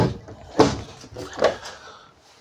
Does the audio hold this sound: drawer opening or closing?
yes